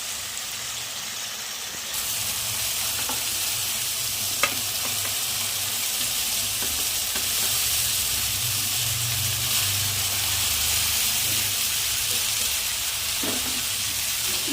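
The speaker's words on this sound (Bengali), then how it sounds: "জলটা দিয়ে ভালো করে মশলাটাকে কষিয়ে নেওয়া হলো।" Masala sizzles and fries in a pan as it is stirred after a splash of water, a steady loud hiss that swells after the first couple of seconds with occasional scrapes and no talking.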